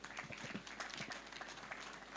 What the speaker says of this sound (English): I would like that we give them a very big clap,